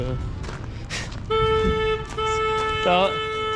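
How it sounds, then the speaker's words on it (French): Car horn with a weak tone gives two long, sustained blasts at close range, with people talking around it. "c'est vraiment un klaxon de faible"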